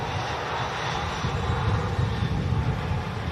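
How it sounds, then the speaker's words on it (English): A Boeing 787 Dreamliner jet departs Manchester Airport, its engines giving a steady, loud, broadband roar that swells slightly as the aircraft moves, with no voices over it. "a Dreamliner next to depart"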